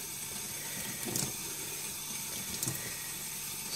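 Water runs steadily from a tap onto a Naniwa Gouken Kuroto #1000 whetstone, a continuous close trickle. Two brief splashy surges break it up, and there is no speech.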